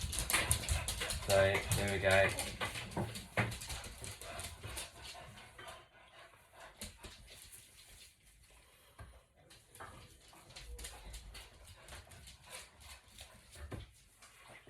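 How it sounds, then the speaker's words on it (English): Dogs bark and whimper after coming back from a walk, loudest near the start and then more scattered and fainter, heard beneath a person talking in a hair salon setting. "Oh, if you hear dogs barking, they've just come back from their walk."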